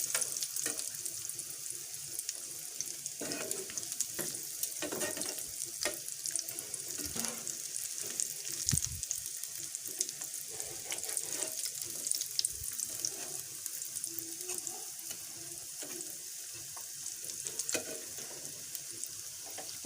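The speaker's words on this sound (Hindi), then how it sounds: "अब हम तकरीबन इसे 2 से 3 मिनट तक मज़ीद इसे फ्राई करेंगे।" Cauliflower and potato kababs frying in a pan, giving a steady, hissy sizzle that continues evenly throughout at moderate level, with occasional soft clicks and light stirring sounds and no talking.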